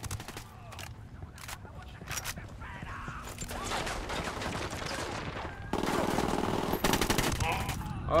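Bursts of automatic and single-shot gunfire in the video game Ghost Recon Wildlands, busy and fairly loud across the stretch, growing denser and heavier toward the end.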